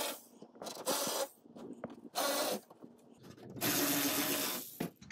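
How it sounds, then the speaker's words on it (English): Self-tapping screws are backed out of a Subaru WRX/STI/FXT top-mount intercooler with a hand tool, giving several short bursts of ratcheting and scraping, close and fairly quiet, separated by brief pauses. "I'm just going to take off the rest of the screws. These are self-tapping screws"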